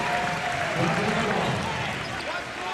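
An arena crowd at a 1998 Gonzaga versus Portland basketball game applauds players coming off after a five-man substitution, a steady, full wash of clapping and crowd noise that eases slightly toward the end.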